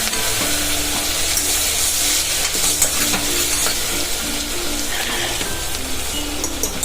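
Garlic chutney, ginger-chilli paste and curry leaves sautéing in hot oil for vegetable khichdi, a steady close sizzle with occasional stirring scrapes, no talking.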